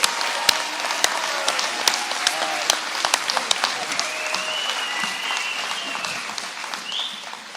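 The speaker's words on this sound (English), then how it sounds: "just stop and stand up and give Governor DeSantis a round of applause for telling the truth on this important issue?" Sustained audience applause for Governor DeSantis at a Florida press event with doctors, many hands clapping steadily with a few sharp nearby claps, and faint voices mixed in toward the end.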